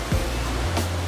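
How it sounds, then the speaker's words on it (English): Ocean waves surge and wash at Devil's Churn, a rocky inlet in Yachats, Oregon, making a steady, loud rushing roar with a brief swell near the start and another toward the end, with no voices. "What do you think about the wave?"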